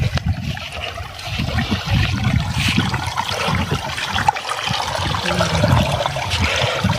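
Irrigation water runs through a potato field in a steady, close gush with trickling and splashing over a low rumble.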